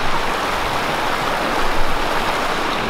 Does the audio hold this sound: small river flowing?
yes